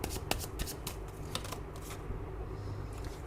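Tarot cards are shuffled by hand in a quick, uneven run of soft riffling flicks and papery slaps, close and fairly quiet, with no voices.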